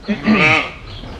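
A sheep bleats close up on a farm during lambing season, one wavering, drawn-out bleat heard alone with no talk.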